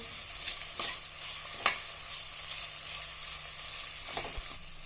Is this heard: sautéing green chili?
yes